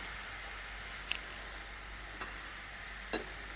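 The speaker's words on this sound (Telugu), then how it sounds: "మెత్తగా అయ్యేంత వరకు అయితే మనం దీన్ని ఫ్రై చేసుకుందాం. చూడండి, ఇలా ఫ్రై చేసుకోవాలి." Grated carrot frying in a pan for halwa, a steady soft sizzle and hiss throughout with three brief sharp spatters or stirring scrapes, close and moderately quiet, no talking.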